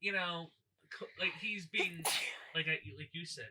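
A sharp, short sneeze bursts out mid-conversation, sandwiched between stretches of casual talk from nearby voices.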